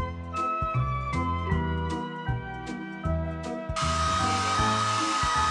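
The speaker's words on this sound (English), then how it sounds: "Tap the hair dryer to blow dry the pup's hair." Cartoon hair dryer blowing in a PAW Patrol children's video game, entering as a steady whooshing whir after a run of bright musical notes, alone and moderately loud.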